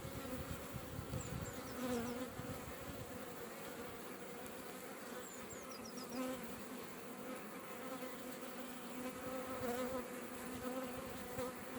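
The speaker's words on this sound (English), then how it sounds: "Bees have got no touch receptors, so they don't know when they're being touched by the wax unless it's squashing them." Honeybees hum steadily in an opened hive box during a routine inspection, a close, continuous low buzzing that stays fairly quiet throughout, with no voices.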